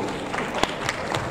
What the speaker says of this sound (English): you can clap, no problem. I like it when you clap